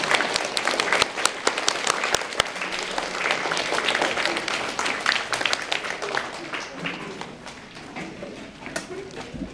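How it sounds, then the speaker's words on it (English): Parents and students at a 2023 National Elementary Honor Society induction ceremony give sustained applause, a dense wash of many hands clapping that gradually tapers off. "give a round of applause to your parents for doing everything you do"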